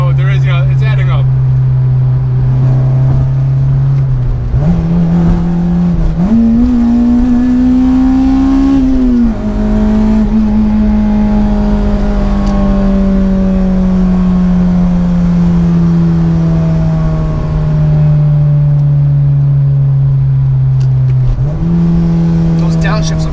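A Honda-engined Acura RSX heard from inside the cabin, with a loud sustained engine drone that rises and drops in pitch as it revs and downshifts, under people talking.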